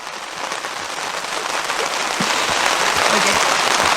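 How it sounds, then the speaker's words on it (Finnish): Rain falling steadily during a wilderness trip in Senja, a dense hiss that grows louder toward the end with scattered close drops and taps. "Vessassa sataa vettä."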